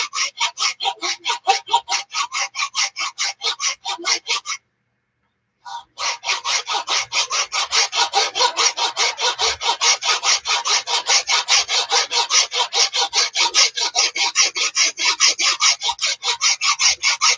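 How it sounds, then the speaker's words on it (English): A file draw-filing a straight razor blade from a Friedr Herder kit, giving loud, close, rhythmic rasping strokes in a fast, steady back-and-forth; one short pause breaks the run before the strokes resume without talk. "Draw filing will take out those ridges and smooth it right up."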